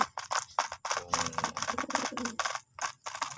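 Pet pigeons in a backyard coop coo and flutter while being fed, a busy, continuous mix of soft calls and rustling at close range, with no clear speech.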